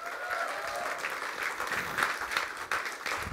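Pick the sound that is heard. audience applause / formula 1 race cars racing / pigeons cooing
audience applause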